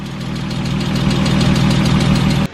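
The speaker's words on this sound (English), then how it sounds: "a little bit of like a upper end engine, like ticking lifter noise" A Porsche 987 Boxster S engine idles steadily with a fast, light lifter ticking from the top end, loud and close, then cuts off abruptly near the end.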